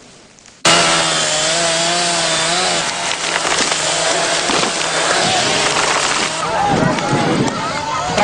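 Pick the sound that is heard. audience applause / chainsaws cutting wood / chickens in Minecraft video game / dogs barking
chainsaws cutting wood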